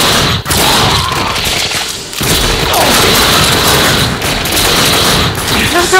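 Two guns fired at once in the shooter The Darkness 2, a loud, chaotic stream of overlapping shots, heavy booms and thuds that runs continuously up close, with a voice talking over the din.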